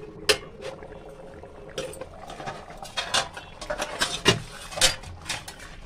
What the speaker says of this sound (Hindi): इसको एक बर्तन से ढक देंगे इस तरीके से, देखते हैं कि इसमें खौल आ चुकी है।